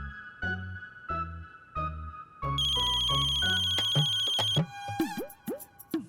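A mobile phone ringtone plays a short repeated electronic tone pattern, then a louder, brighter melodic run, ending in rising chirp-like notes, all loud and close with no talk.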